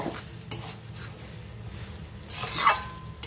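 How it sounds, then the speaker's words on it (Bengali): Ghee and green chillies are stirred into a potato dish in a pan, soft scraping and clinking of a spoon against the metal with a faint sizzle, a sharper knock near the start and another louder scrape near the end. "ঘি আর কাঁচা লঙ্কা দিয়ে একটু ভালো করে মিশিয়ে নেব"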